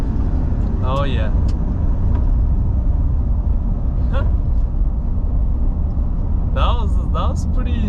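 A steady, loud diesel rumble from a Nissan Titan XD 5.0L Cummins fitted with a CFT intake pipe, idling or cruising continuously under short bursts of speech.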